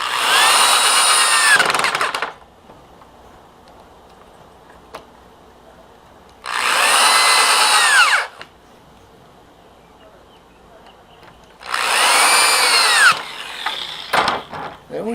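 A power drill drives screws into a wooden landscaping square in three loud whirring bursts, each about two seconds long, with quiet pauses between them.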